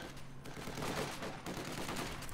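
Gunfire from an infantry skirmish between Conscripts and Grenadiers in Company of Heroes 2, continuous dense rattling shots mixed with game sounds, fairly quiet and distant-sounding.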